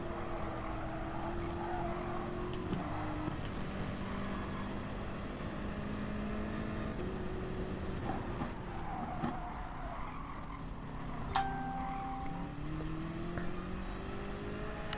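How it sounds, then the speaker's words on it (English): A sim race car running at reduced power on the St Croix A track, with a steady, moderate engine drone and a few shifts in pitch throughout, no talking. "You can tell by the engine though, it isn't full power."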